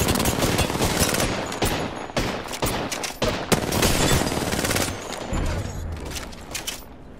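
Dense automatic gunfire in the Apex Legends battle royale game, loud and continuous with rapid bursts and sharp single cracks throughout, mixed with other combat noise.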